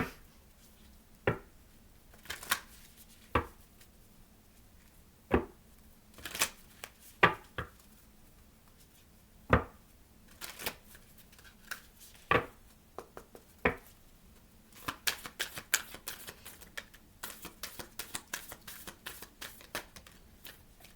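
Tarot cards handled and shuffled by hand, a run of sharp separate snaps and riffles that thickens into a quick flurry of crisp flicks toward the end, close and fairly quiet with no talking.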